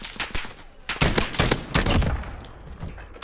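M4A1 rifle in Modern Warfare fires bursts of rapid automatic shots, several sharp cracks in quick succession with short pauses between, loud and close with no voice over them.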